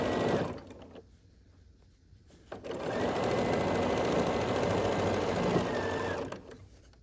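A sewing machine runs steadily as quilt blocks are stitched together, with a short burst early, a pause, then a long continuous run at close range before stopping.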